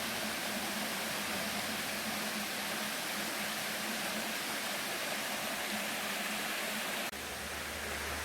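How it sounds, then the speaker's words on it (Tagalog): Water pours steadily down a stream or small waterfall on a hiking trail, a loud, continuous broadband rush heard close up and alone, with a brief shift in texture near the end. "Ang sarap ng huni ng tubig."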